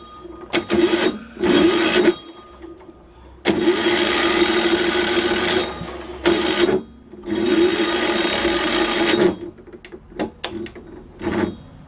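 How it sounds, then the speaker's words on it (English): A 10HP diesel engine with a straight pipe cranks in repeated loud bursts of whirring starter noise, separated by short pauses, without catching; no one speaks. "let's see if we can get it to start now."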